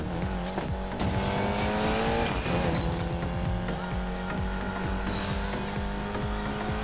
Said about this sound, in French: bon ça c'est une voiture de course